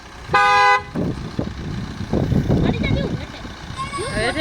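A car horn gives one short, loud blast on a village street during a comedy shoot, followed by people talking over a low vehicle rumble.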